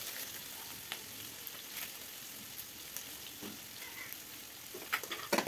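Onion frying in a pan for a Bengali jackfruit curry, a steady broadband sizzle with occasional faint clinks and a few sharper spatters near the end, no talking.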